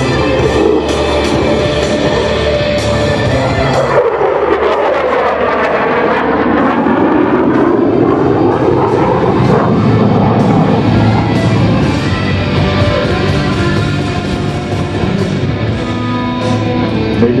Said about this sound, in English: And now from the left, the F-16 in the knife edge pass.